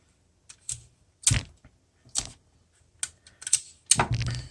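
Tape is applied to hold paper notes down in a school notebook, a series of short, sharp, close tearing and pressing sounds in quick irregular bursts.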